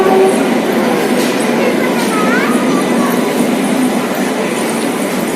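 A train running through Vizag railway station in Visakhapatnam, a steady loud rumble of rolling carriages with brief high wheel squeals partway through, continuous for the whole stretch.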